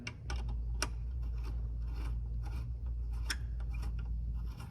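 Light metallic clicks and scraping ticks repeat irregularly over a steady low hum, as an Allen key turns running-board bolts by hand on a Ford F-250/F-350 truck, up close.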